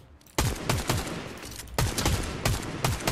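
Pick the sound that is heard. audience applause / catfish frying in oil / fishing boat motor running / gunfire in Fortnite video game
gunfire in Fortnite video game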